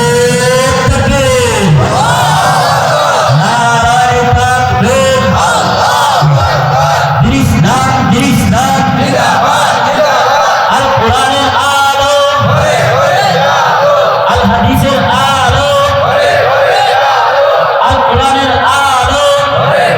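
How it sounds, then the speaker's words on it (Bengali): A large congregation at an Islamic sermon roars takbir in unison, repeated massed shouts rising and falling over sustained crowd noise, loud and near throughout. "সবাই মুসলমানের মর্দে মুজাহিদের মতো আপনারা তাকবীরের আওয়াজ উঠাবেন ইনশাআল্লাহ"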